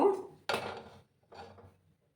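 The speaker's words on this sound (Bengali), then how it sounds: "একটা প্যান আমি বসিয়ে দেব।" A frying pan is set down on a gas stove before frying potol (pointed gourd) for Bengali doi potol, giving a few close metallic clunks and rattles with short pauses between them.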